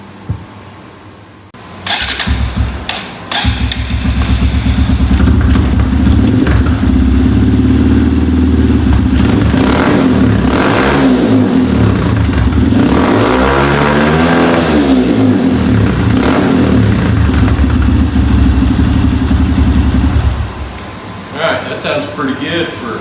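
A Honda 150F motorcycle with a re-jetted carburetor revs up on its stand, the engine climbing and falling through loud, sustained throttle blips for most of the stretch before settling back down near the end.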